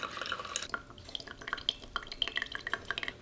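Maple tree sap poured from a kettle into a cup for coffee in North Carolina, heard as a close, faint run of trickling and dripping liquid with small clinks against the cup, no talking.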